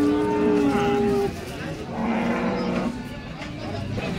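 A cow moos loudly and close at the Baramati cattle market, one long drawn-out call followed by lower lowing amid the market's background hubbub and talk.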